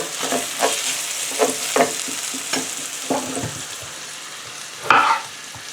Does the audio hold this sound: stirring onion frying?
yes